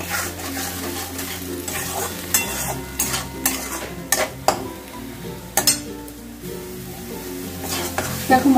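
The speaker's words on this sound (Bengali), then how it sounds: "দেখো মশলাটা আমার 2 মিনিটের মতন আমি ভালো করে কষিয়ে নিলাম।" Masala spice paste for a prawn curry with potato and cauliflower being stir-fried in a pan: steady sizzling with repeated scraping and clinking of a spatula against the metal, close and loud, with no talking.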